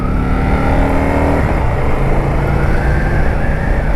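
An Indian Scout 101 motorcycle being ridden on a road in standard mode gives a loud, steady engine drone with a low rumbling tone that shifts in pitch partway through, over constant wind and road noise.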